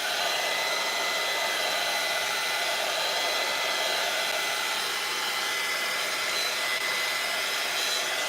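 A hair dryer blowing steadily on a paper craft, a loud, continuous close-up whoosh with no break and no speech.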